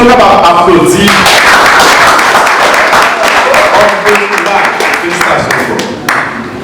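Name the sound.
wedding congregation applauding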